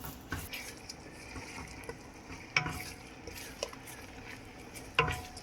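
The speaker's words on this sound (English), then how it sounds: "let me just stir this a little bit" A pot of ugba sauce is stirred, giving soft, faint scraping and a few louder clinks of a spoon against the pot, spaced irregularly over a quiet background with a slight sizzle and no talking.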